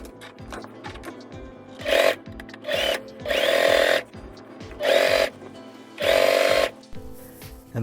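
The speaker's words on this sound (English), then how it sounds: "I'm sewing down 21 inches." A sewing machine stitches a seam on a thrifted kimono-style top in short, repeated bursts of motor whine. Quiet ticking and handling sounds fill the gaps between the runs.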